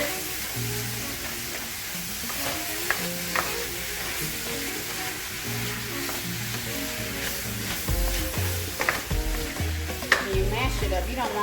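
Ground meat and onions browning in a pan for loaded nachos sizzle steadily up close, while repeated scrapes and knocks of a utensil mash the meat, growing busier toward the end.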